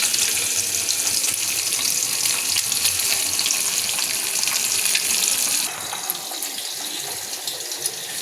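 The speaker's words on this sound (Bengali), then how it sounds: "আর এই যে মাছগুলো কেটে ভেজে নিচ্ছি।" Pieces of cut fish fry in a pan, giving a steady, dense sizzling hiss that drops slightly in level partway through.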